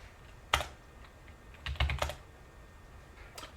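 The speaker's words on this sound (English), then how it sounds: "I type enable secret" Computer keyboard keys are typed in a few short bursts of quick clicks with brief pauses between them, close and fairly quiet, while a command is entered on a Cisco 2500 router.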